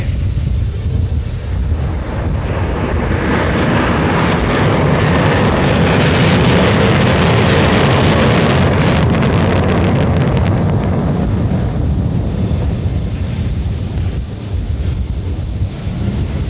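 A Sukhoi-30 fighter jet making a slow pass at an air show, a loud broad roar that swells to a peak near the middle and then fades, buffeted by heavy wind noise on the microphone.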